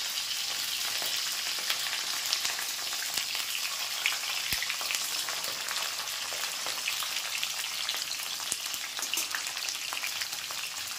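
Cubed capsicum lightly frying in hot oil for kadai chicken gives a continuous fine crackling sizzle throughout, with occasional sharper pops, close and alone.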